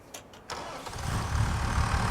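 A John Deere tractor engine in Farming Simulator 25 cranks with a couple of short clicks, catches, then settles into a loud, rumbling idle with no talking.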